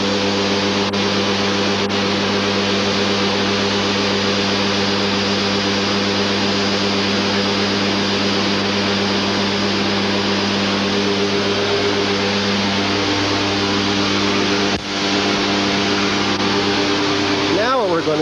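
The drive motor of a DePalma N machine runs up as a loud, steady mechanical whine and hum with layered tones, continuous throughout, dipping briefly near the end.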